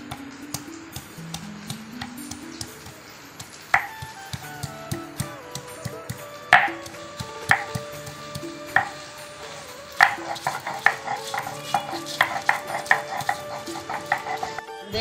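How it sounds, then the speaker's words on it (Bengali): Ginger being ground into paste for a vegetarian Durga Puja recipe, steady rhythmic knocking and scraping of stone on stone with sharper taps building toward the end, close and alone without talk. "এখন বেটে নিব আদা"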